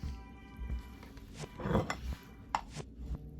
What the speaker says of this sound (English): Okay, using the spatula.